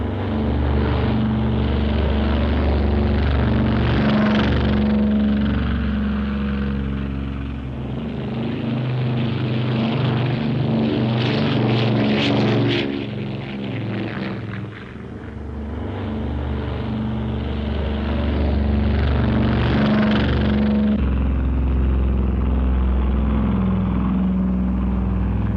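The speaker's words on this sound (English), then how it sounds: "The giant planes hurtled down the runway right on schedule." World War II B-29 Superfortress bombers taking off down a runway, a loud, sustained roar of piston engines and propellers that swells and dips as the aircraft pass. Period film soundtrack with no talk.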